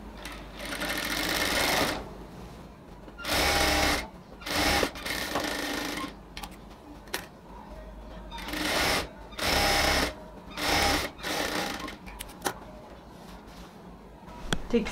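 A sewing machine stitches ladies' pants, running in several short, loud bursts of rapid whirring separated by brief pauses, close up, with faint handling noises between runs.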